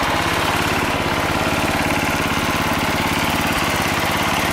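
A Sears Suburban lawn tractor engine, restored to running order, runs at a steady, loud idle. The pulsing mechanical drone stays close and continuous throughout, with no talking.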